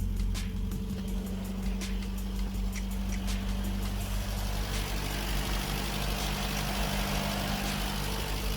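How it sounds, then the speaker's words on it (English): A Vauxhall car engine, fitted with new Magnecor KV85 HT leads and NGK plugs, idles fast on choke after sitting for a couple of days, a steady loud rumble that holds throughout. "That's actually idling far too fast, so I'm going to put the choke in a little bit"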